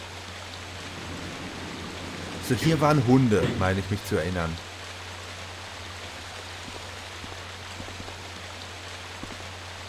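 A waterfall in Resident Evil Director's Cut gives off a constant, even rush of water that fills the background throughout, while someone talks briefly over it.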